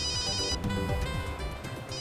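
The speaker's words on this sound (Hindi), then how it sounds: "ओहो, देखो किसका फोन आया है।" Mobile phone ringtone chiming inside a car, a close, steady melodic ring lasting the whole moment.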